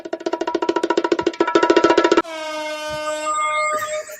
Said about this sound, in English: I'm glad it's coming from the air horn.